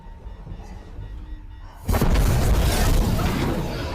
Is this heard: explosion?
yes